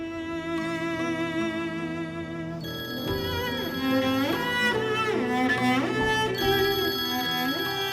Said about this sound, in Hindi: वकील का फोन आ रहा